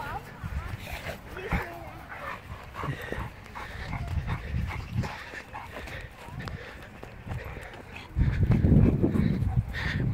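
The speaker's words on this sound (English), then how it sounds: "We don't know if that dog might bite Simba" A dog pants and moves about during a walk in a park, with steady rustling and breathy activity throughout, louder near the end; a person speaks intermittently over it.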